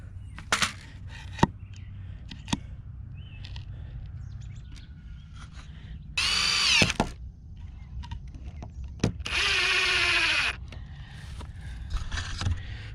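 Power drill driving a deck screw into lumber while building a chicken coop, two loud whirring bursts of a few seconds each, separated by quieter knocks and handling sounds, with birds chirping faintly outdoors.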